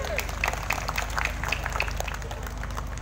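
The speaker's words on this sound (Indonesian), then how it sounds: "Tepuk tangan untuk kita semua" Wedding guests applaud at a reception in Indonesia, a steady wash of clapping hands over a low background hum, filling the room evenly throughout.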